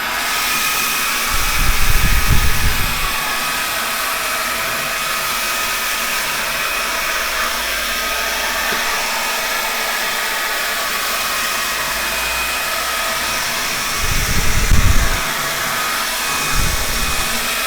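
A HiKOKI R36DB 36V cordless vacuum cleaner runs steadily with a loud, constant whooshing hum, picking up scattered rice, with brief louder low-pitched surges as it passes over piles.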